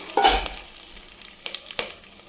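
Urad dal and curry leaves hit hot tempering oil with mustard seeds, giving a bright crackling sizzle burst followed by a few sharp pops and spatters as the pan is stirred, close up.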